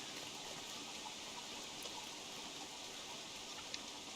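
Continuous rainfall in Don't Starve Together, a broad watery hiss that stays level and steady, with a faint tick near the end and no one speaking.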